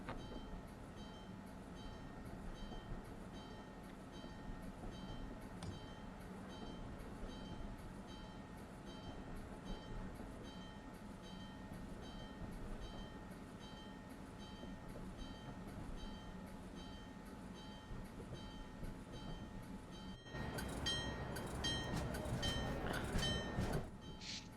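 MBTA commuter rail train on the Providence/Stoughton line rolling steadily from the cab, a faint continuous rumble with regular rhythmic clicks, then a louder burst of rattling and clatter near the end.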